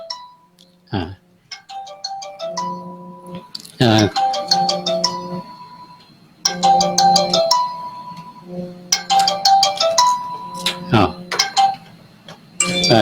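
Mobile phone ringtone announcing an incoming call during a monk's call-in radio program, a loud melodic chiming pattern repeating in several bursts with short pauses, close and clear.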